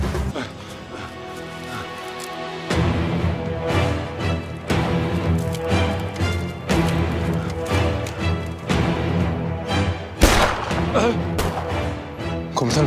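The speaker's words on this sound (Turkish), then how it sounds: "Komutanım silah sesi." Several sharp, loud bangs like gunshots crack out irregularly over a dense, dramatic musical background, with one especially loud blast near the end.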